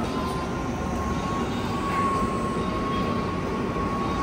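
Steady rumble and whir of the crowded Plane Train people mover at Atlanta airport in motion, a continuous even roar with a faint tonal whine running throughout, no voices.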